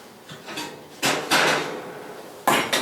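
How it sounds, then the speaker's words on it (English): A hot omelette pan slid out of a 500-degree oven, a few sharp metallic scrapes and clunks from the rack and door, close and fairly loud. "we're going to pull the omelet out of the oven"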